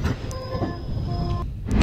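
A train pulling into Fursatganj railway station, with a loud rumbling roll and high metallic wheel squeals and tones sustained as it slows, then a brief drop before the rumble returns.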